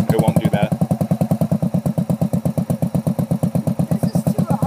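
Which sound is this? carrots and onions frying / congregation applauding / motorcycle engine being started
motorcycle engine being started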